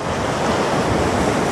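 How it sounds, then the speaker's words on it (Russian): Rough sea waves crash continuously during a storm at a beach in Anapa, a loud, steady roar of surf mixed with gusting wind noise. "здесь у нас на море какое море неспокойное, там дальше наблюдается шторм"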